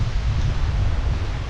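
Strong wind gusts roar steadily through a vegetable garden with bitter gourd plants, a dense rushing and rustling of leaves, loud and close with no talking.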